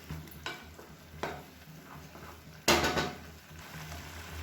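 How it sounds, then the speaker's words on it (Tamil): Chutney bubbles and sizzles in a pan close by, with occasional stirring scrapes and a louder clatter partway through. "இப்போ பாருங்கள், சுற்றி நல்லா கொதிக்க ஆரம்பிச்சிருச்சு"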